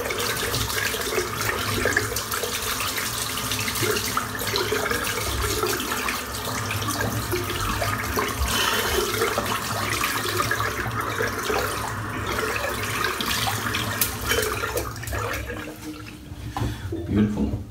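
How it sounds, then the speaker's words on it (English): Steady running tap water pours over a shaving brush as it is rinsed in a sink, a continuous close splashing rush lasting throughout and tapering slightly at the end. "Just rinse the brush out while that's drying it."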